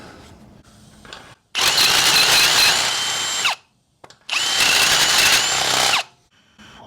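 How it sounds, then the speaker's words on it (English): Power drill boring larger holes for U-bolts during a GM ball joint job, heard as two long, loud, steady whines of about two seconds each, separated by a short pause, with no talking. "drill the holes bigger"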